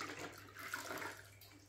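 A double mop dipped into a bucket of clean water, giving a short, steady splash and slosh of water close by with no voices.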